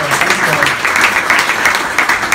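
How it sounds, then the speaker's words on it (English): A short burst of steady clapping from a crowd, dense and even, lasting a couple of seconds. "a round of applause for these gents"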